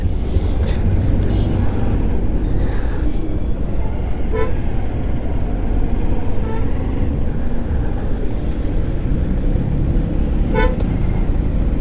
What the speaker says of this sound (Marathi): परत ट्रॅफिक लागली.